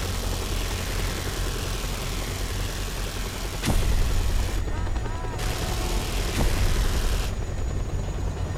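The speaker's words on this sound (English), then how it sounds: "We're gonna blow up the next 3 that spawn with the helicopter." In the Just Cause 2 video game, a helicopter fires on enemy helicopters over a steady loud rotor and engine drone, with two sharp blasts cutting through the noise.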